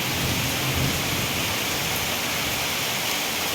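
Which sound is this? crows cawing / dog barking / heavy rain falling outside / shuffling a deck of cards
heavy rain falling outside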